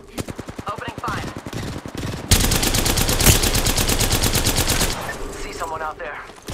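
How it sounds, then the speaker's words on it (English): Rapid automatic gunfire in the battle royale game Apex Legends, with loud close bursts and a sustained stretch of fire that ends in scattered shots, while voices come through in places. "Opening fire."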